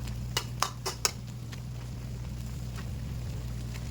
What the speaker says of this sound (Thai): เราจะผัดให้หมู3ชั้นของเราสุกก่อนนะครับ